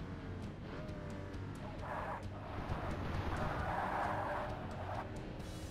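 A Porsche race car in Forza Motorsport holds a steady, buzzing engine drone at speed. The pitch rises slightly midway and stays close and continuous throughout.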